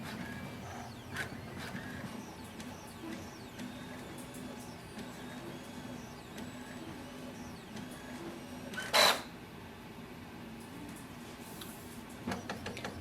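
A Brother MFC-J4535DW inkjet printer runs a print on A4 paper during printhead cleaning, giving a steady mechanical whir with scattered small clicks and one brief, louder clattering burst partway through. No one speaks.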